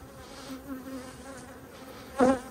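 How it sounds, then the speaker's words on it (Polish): Honey bees at an opened hive hum in a steady, agitated drone close by, with a sharper burst of buzzing near the end as one passes close. "pszczoły reagują tak samo nerwowo jak w poprzednim ulu"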